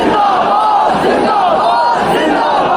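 A large gathering at an Urs religious event chants a devotional slogan in unison, loud and close, with voices surging and falling in rhythmic waves throughout.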